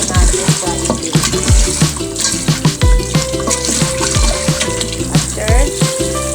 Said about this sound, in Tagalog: Hugasan natin guys itong ating pork na ihahalo natin sa soup